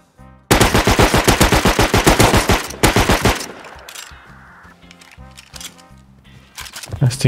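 Gunfire in the video game Rust: a loud, rapid burst of automatic shots lasting about three seconds, followed by quieter clicks and game sounds.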